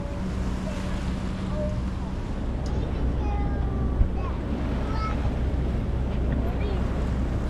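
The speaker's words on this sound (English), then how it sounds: "So close to breaking waves." Waves breaking close by on a reef, heard from aboard a sailboat at night: a steady, loud wash of surf and wind rumble with no clear individual break standing out.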